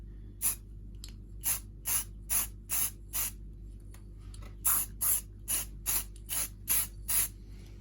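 A can of quick-drying matte grey primer sprays onto a toy Britains rotary muck spreader model in about fourteen short, even hissing bursts, close by in a quiet room with no talk.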